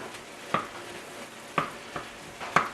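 Corn with cream cheese cooks in a skillet with a soft, quiet sizzle, broken by several sharp scraping stir strokes spaced about a second apart.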